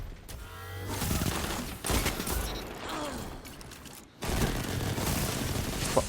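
Automatic weapon fire in the Destiny shooter game, dense rattling bursts with mechanical clatter filling most of the moment, briefly cutting out near the end before resuming loud and close.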